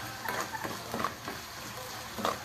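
Red chili powder sautés in hot oil over browned onion for a white pea usal. A soft, steady sizzle is broken by a few brief stirring scrapes, all fairly quiet with no talking.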